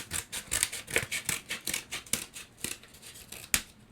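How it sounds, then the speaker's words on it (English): Repeated snips of scissors cutting around a paper plate, a steady run of crisp closely spaced snips, close and fairly quiet. "Now I can just cut all the way around, cutting out the rim and cutting out the middle."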